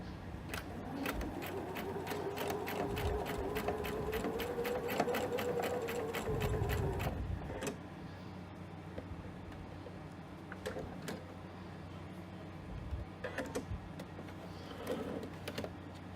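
A sewing machine stitches a rectangular placket box on fabric, running in a steady rapid chatter for several seconds, then stopping, followed by quieter clicks and handling sounds as the fabric is pivoted.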